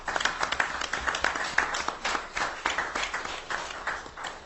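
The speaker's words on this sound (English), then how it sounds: "you should give her a round of applause" At a town council meeting, a room of people applauds with close, uneven clapping that rises and falls in waves and runs the whole stretch without voices.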